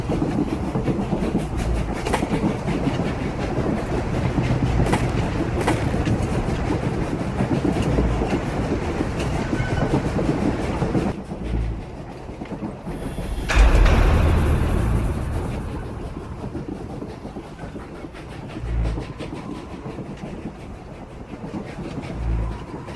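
A train rolls along steadily in Star Wars: The Old Republic with a continuous rumble and rhythmic clickety-clack, then a sharp hiss and whoosh partway through before the running noise settles back, no voices.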